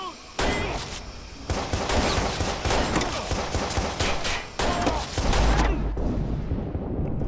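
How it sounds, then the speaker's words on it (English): Dense, sustained gunfire from a Watch Dogs prison-break shootout, bursts of rapid shots roaring almost continuously for several seconds with brief gaps, loud and close, plus a shouted voice. "Shots fired! Shots fired!"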